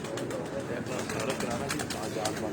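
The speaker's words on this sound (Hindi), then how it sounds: "ये गोल्डन कबूतर है" Soft, low cooing from a golden pigeon, repeated in a rough rhythm with faint rustling and background voices around it, fairly quiet throughout.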